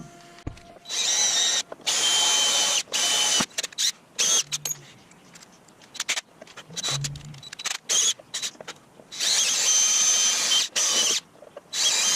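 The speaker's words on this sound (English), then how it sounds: "So I need to drill out those 3 rivets to take this piece out" A power drill whines in repeated bursts as it drills out metal rivets on a 70-year-old engine part, stopping and starting, with brief clicks and pauses between runs.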